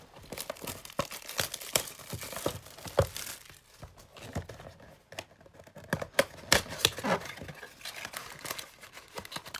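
Continuous crisp snipping and rustling of scissors cutting through material, with rapid irregular clicks close to the microphone.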